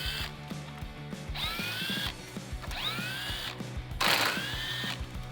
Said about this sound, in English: And then I have to remove the 4 10mm screws at the top and 2 8mm at the bottom.